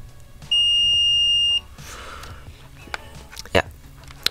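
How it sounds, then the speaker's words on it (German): A digital multimeter on continuity test gives one steady high-pitched beep lasting about a second, close and clear, followed by faint handling clicks. "Man hört es hoffentlich piepsen."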